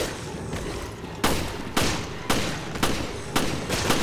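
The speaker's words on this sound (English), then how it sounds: "I'll shoot him in the back" Gunfire in the video game Resident Evil Revelations, a run of six or seven sharp shots roughly every half second, loud and close over a steady background hiss, with no talk.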